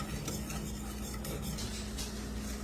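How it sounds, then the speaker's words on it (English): Sugar-free sweetened condensed milk is stirred steadily in a pot as it heats toward a simmer, a continuous soft scraping and swishing under a low constant hum, with no voices. "I've been stirring it up until it started to simmer."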